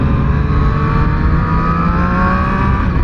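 Triumph Street Triple R motorcycle in Baja Orange pulling hard in road mode, a loud steady engine roar with a continuous rising tone, close and sustained without talk.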